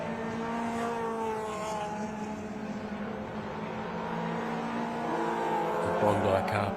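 Race cars circuit Sydney Motorsport Park during the 2023 Sydney Masterblast, their engines a steady, sustained drone heard at a distance under continuous commentary.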